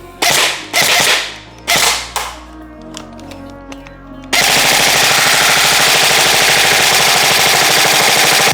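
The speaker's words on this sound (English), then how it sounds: "Let's just get some more shots downrange" An MGC4 MK1 blaster firing shots downrange: several sharp single cracks spaced apart, then a sustained loud rapid burst of continuous automatic fire at close range.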